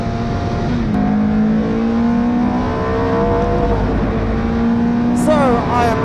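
Ferrari 430 GT3 Challenge race car with silencers fitted, running on the Silverstone Grand Prix circuit during a track day; steady loud engine drone with pitch shifts between gears, continuous throughout.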